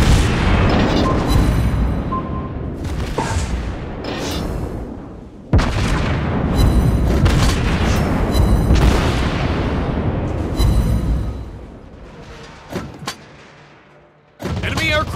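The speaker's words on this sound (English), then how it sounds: "Anti-aircraft gun on full alert!" Anti-aircraft guns on a Tier 6 Soviet cruiser, the Admiral Makarov, firing in World of Warships Blitz: repeated loud bursts and booms in a near-continuous barrage, with sharp reports standing out before it thins near the end.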